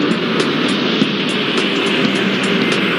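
An airliner takes off in the airport game Airport Madness 4, a steady, loud jet roar held at an even level throughout, with faint repeated ticks on top and no talking.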